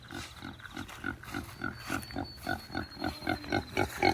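A pig on a farm grunts in a steady rhythmic series of about a dozen short, close snorts, each evenly spaced and growing slightly louder, with no talking.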